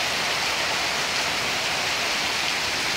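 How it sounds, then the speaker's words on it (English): Heavy rain teems down onto a residential driveway, a loud, constant wash of hiss and patter with no pauses. "Oh, we so need this rain."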